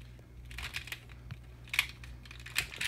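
Plastic Rubik's snake pieces clicking and rattling as they are twisted and folded, a few light, close clicks and crackles over a low background hum, with no talking.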